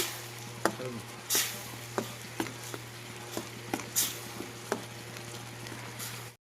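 Masala being stirred into tomato gravy in a pan for a home-style fish curry, with sharp intermittent clicks and scrapes of the spoon against the pan over a steady low hum, no talking.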